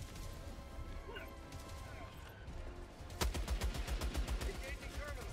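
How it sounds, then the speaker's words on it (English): Gunfire and explosions from the video game Helldivers 2, with a burst of rapid, loud shots kicking in partway through over steady game noise and background chatter. "Explosion."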